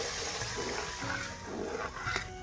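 Water poured into a simmering village-style fish curry gravy with peas, a continuous splashing, gushing rush that fills the whole moment, fairly loud and close with no talking.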